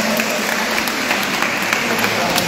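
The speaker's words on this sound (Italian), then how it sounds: "Ciao, un applauso Simone." A parish audience applauds Simone, a brief burst of dense, close clapping with a few louder individual claps.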